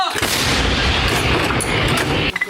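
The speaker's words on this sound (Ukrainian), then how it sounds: "При вогонь. Гармата!" Dense, continuous roar of heavy gunfire from an FH-70 howitzer fills the clip, loud and close, with booming blasts blending into a sustained rumble before a sudden drop near the end.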